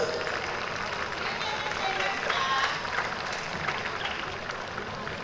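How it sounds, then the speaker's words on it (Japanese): An audience applauds the fourteen runners after a women's 1500m final at a Chiba prefecture high school athletics meet. The clapping forms a steady, dense wash of crowd noise for the whole stretch. "決勝を走った14名の選手に大きな拍手をお願いいたします。"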